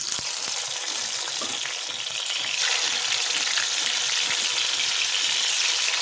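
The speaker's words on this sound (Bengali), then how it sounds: "মাছগুলো এরকমই ভাজা হবে, বেশি ভাজার দরকার নেই।" Pieces of katla fish fry in hot oil in a kadai, giving a loud, steady, close crackling sizzle that carries on without a break and swells a little in the second half, with no voices.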